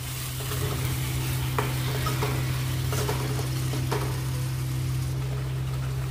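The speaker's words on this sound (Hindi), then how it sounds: "अब इसमें हम ऐड करेंगे अपने टमाटो प्यूरी, इसको भी अच्छी तरह से भून लेंगे" Tomato puree frying with sautéed spices for soya chaap curry, a continuous close sizzle with a low hum beneath and occasional spoon taps and stirring scrapes, no talk.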